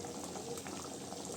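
Manathakkali kai kuzhambu, a tangy curry with black nightshade berries and coconut, boils steadily in a pot, a close, continuous bubbling simmer with no voices.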